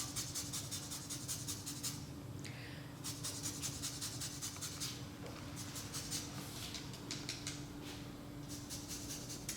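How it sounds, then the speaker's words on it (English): Soft, scratchy rasping of limes being zested over a key lime pie, in quick repeated strokes with short pauses, close but faint over a steady background hum. "Save these last few limes just so I could put a little zest on top."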